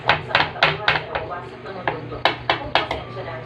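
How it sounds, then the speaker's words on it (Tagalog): A knife chops garlic on a wooden cutting board in a home kitchen, making about a dozen sharp, close thuds in uneven bursts with short pauses between them. "Galing mo kung paano maghiwa ng bawang"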